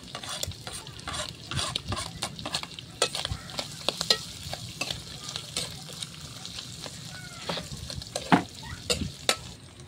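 Garlic, onion, ginger and pepper sautéing in a pan, a steady sizzle of frying with frequent scraping stirs of a utensil against the pan, close and continuous without talk.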